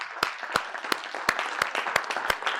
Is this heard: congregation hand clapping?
yes